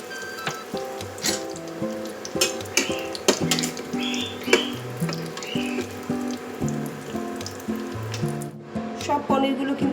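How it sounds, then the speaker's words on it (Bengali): Paneer cubes frying in hot oil in a pan with a steady background sizzle, broken by frequent clinks and scrapes of a metal utensil against the pan and a few taps, close and moderately loud throughout. "আর এইভাবেই বাকি পনিরগুলো কিন্তু আমি ভেজে নেব।"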